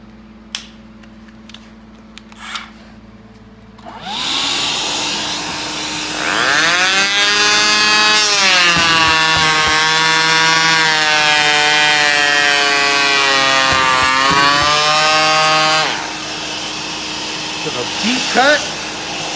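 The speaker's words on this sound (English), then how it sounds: "when you're planing," A Bosch electric planer with a vacuum dust extraction hose spins up to a loud, high, steady whine and holds it for about twelve seconds before winding down, preceded and followed by a few light clicks and handling knocks.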